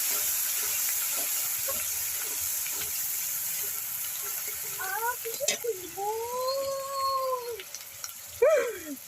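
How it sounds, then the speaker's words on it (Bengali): Cut onion fries lightly in oil for a prawn malai curry, a steady soft hiss running throughout, with a few whining, howl-like animal calls rising over it near the end. "সেই পেঁয়াজটা তেলের মধ্যে দিয়ে একটু পেঁয়াজটা হালকা করে ভেজে নেবো"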